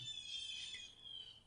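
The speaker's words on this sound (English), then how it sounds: "Can you guys hear those birds?" Birds chirp outdoors in a steady, high-pitched twitter that sounds faint and distant, with no voices.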